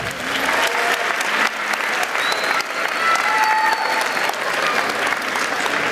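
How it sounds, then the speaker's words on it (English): A graduating class of 2011 applauds at a graduation ceremony, a dense, sustained wash of clapping from a large crowd that continues steadily throughout, with a few faint voices and whistles mixed in. "Can you do me a favor and give yourself a round of applause?"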